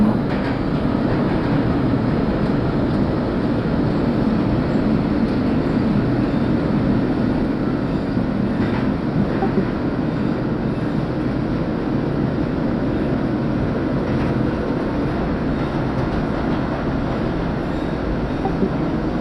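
A simulated NYC Subway R62 train on the 2/3 line toward New Lots Avenue rumbles along steadily in a train simulator game, with a continuous loud running roar and faint periodic clatter throughout.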